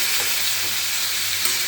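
Chopped potato, eggplant, beans and radish fry in a pan with black cumin and turmeric, giving a dense, continuous, close sizzle that holds steady throughout.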